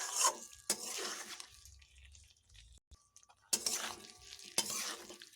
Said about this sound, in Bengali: 1 চামচ ঘি দেবার পরে একটু এইভাবে মিশিয়ে নিচ্ছি।